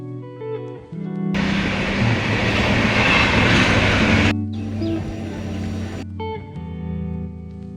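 Loud, steady rumble and rattle of a train heard from inside a carriage while riding, swelling to a sustained roar for a few seconds and then easing to a quieter running hum, with no talking.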